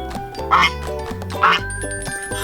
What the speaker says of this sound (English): A goose. A goose says,